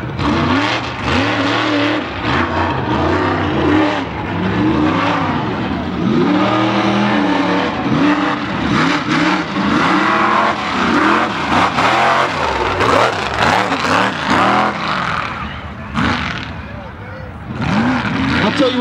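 At a Hog Waller mud bog run, a truck engine roars and revs repeatedly with rising and falling pitch, loud and continuous, under an announcer's voice over a loudspeaker.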